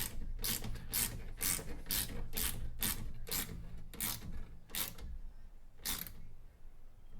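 Ratchet tightening plastic-mounted light stems on a John Deere 1025R tractor, a string of sharp quick clicks in bursts, close up, then a final lone click after a pause.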